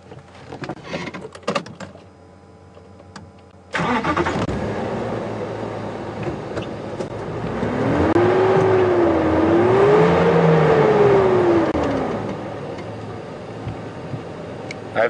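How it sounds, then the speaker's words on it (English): A safari game drive vehicle at Djuma Game Reserve starts up after some faint clicks, then idles with a steady close rumble and revs up and back down before settling. "If you switch off, I'll give you a rev."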